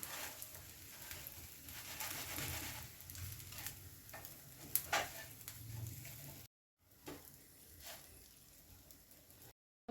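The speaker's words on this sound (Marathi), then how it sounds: "त्यातच आपल्याला पाव छान भाजून घ्यायचे एका वेळेला जेवढे बसतील तेवढं पाव इथं आपण ठेवून घ्यायचे" Pav bread buns toast on a hot griddle for pav bhaji, a soft, close sizzle with light crackles and faint scraping, broken by short silent gaps.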